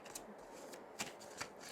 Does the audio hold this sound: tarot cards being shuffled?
yes